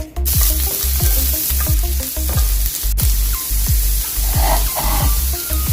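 Garlic sizzles and fries in hot olive oil in a skillet, a loud steady crackle with repeated low knocks as it is stirred in the pan throughout.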